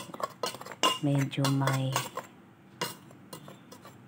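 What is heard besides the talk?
stirring ground coffee beans with a spoon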